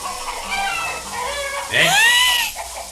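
Hens cluck as a sound effect in a Spanish-language radio comedy, a busy run of squawky, overlapping calls that swells into a louder burst midway before easing off.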